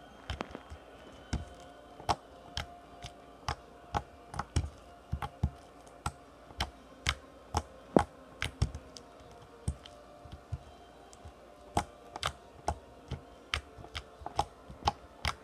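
Clicky slime being squeezed and played with: sharp, crisp clicking pops at a fairly regular rhythm, close and distinct over a quiet background.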